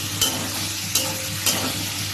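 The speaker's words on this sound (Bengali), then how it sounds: "খাসির তেল এবার এটাকে ভাজা হচ্ছে" Mutton fat sizzles steadily in a hot pan, with three brief scraping stirs breaking through the constant crackle; no talking.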